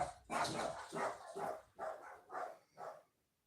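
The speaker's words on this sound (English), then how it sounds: "I don't know who they're barking at." A dog barks six times in a steady rhythm, each bark sharp and moderately loud, then the sound stops.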